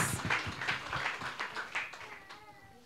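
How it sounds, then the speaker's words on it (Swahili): A church congregation claps for Jesus in a quick, roughly even rhythm of about eight claps, moderately loud and fading toward the end, with faint voices mixed in. "Pigie Bwana Yesu makofi mazuri."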